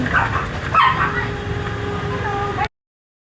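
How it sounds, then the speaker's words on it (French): A small dog gives a few yips and barks near the start at a Vietnamese beauty salon, over a background of steady room noise. "On a un petit chien qui nous attend."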